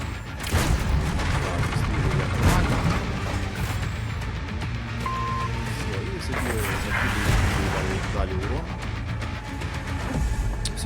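Rapid bursts of video game gunfire over a dense, continuous roar of in-game effects, loud and steady throughout.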